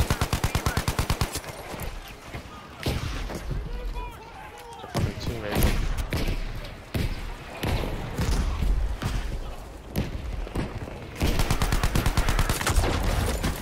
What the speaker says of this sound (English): We need an airstrike at this location!